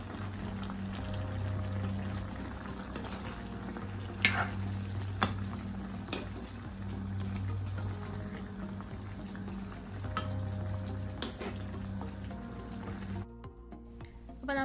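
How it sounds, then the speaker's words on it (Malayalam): Chicken curry with curry leaves is stirred in a pan, giving a quiet, steady sizzle. Several sharp scrapes and clinks from the utensil punctuate it. "ഇനി നമ്മൾ കുറച്ച് കഴുകി വൃത്തിയാക്കി വെച്ച കറിവേപ്പില കൂടി ചേർത്ത് കൊടുക്കണം. അതിനുശേഷം ഒന്നുകൂടെ ഒന്ന് ഇളക്കി കൊടുക്കാം."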